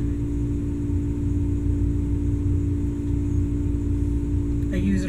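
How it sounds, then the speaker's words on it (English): A home air conditioner runs as a steady, constant background hum and whir, unchanging throughout, with a faint brief sound near the end. "that's my air conditioning on"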